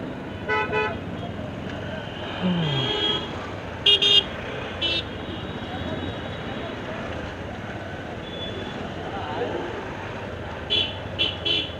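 Heavy road traffic around Kongaon, heard from a moving motorbike, gives a constant engine and road rumble broken by several sharp horn toots, some in quick bursts, near and fairly loud.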